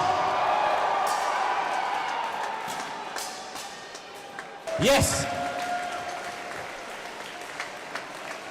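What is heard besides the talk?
crowd cheering and applauding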